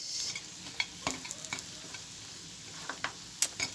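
Pork gisa stirred in a pan, a soft sizzle under frequent scraping and clinking strokes of a spoon against the metal, close and irregular.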